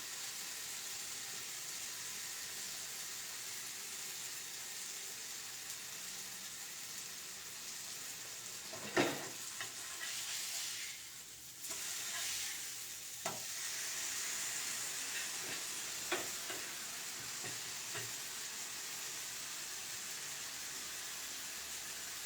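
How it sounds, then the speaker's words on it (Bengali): Paneer shallow-fried in a pan: a steady, faint hiss of frying oil runs throughout, with a few brief clicks and stirring taps around the middle. "জাস্ট হালকা শ্যালো ফ্রাই করবো পনিরটা যাতে একটু সফট হয়ে যায়"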